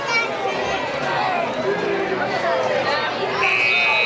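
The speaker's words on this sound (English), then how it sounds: "Now, there's the buzzer to end the first period." A buzzer sounds at the end of the first period of a high school football game, a sustained tone entering near the end amid crowd chatter and a commentator talking.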